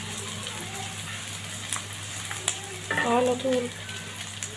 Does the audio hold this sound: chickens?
no